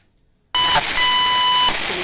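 A loud alarm signals the end of answer time in a class 10 math objective test. It starts abruptly after a short silence as a shrill, steady electronic tone with a brief flutter partway through.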